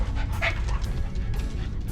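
A dog in the Tales of Monkey Island video game barks and yips in quick short bursts over a constant low background hum, with no talking.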